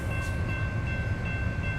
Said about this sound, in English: Oh, I got a train to wait for.